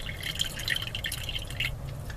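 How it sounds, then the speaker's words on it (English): Water splashes and drips onto the tops of deep-cycle 12-volt RV batteries, a quick run of small, close, irregular patters over a low background hum. "I spilt a bunch of water on the top of the batteries"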